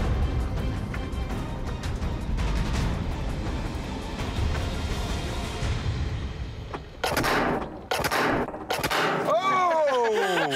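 A seven-barreled Royal Navy rifle fires in a loud, roaring volley with a long rumbling blast, followed by several sharper bursts and a high whooshing, squealing tail near the end.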